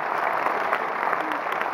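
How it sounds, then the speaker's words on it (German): A sustained round of audience applause at a film premiere in Berlin's Zoo Palast cinema, dense steady clapping from a sizable crowd, even in loudness throughout. "50 Euro. Applaus."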